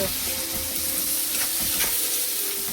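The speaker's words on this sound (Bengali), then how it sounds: "আজকের এই জিরে ফোড়ন দিলাম" Cumin seeds hit hot oil for a tempering, giving a dense, steady frying sizzle close up, with a faint stir or two and no talking.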